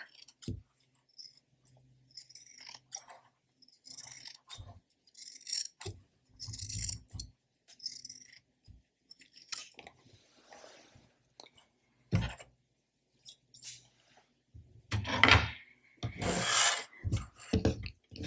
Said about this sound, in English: Now, I am going to trim some of this off, since it is my mock-up.